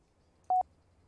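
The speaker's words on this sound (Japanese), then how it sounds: "久しぶりの電話だな。" A telephone in the video game Someday You'll Return gives a single short electronic dial tone, a clean beep over near silence.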